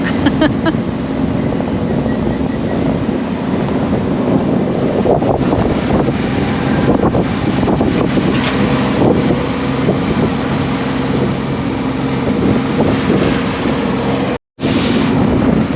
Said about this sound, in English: Boats going every which way.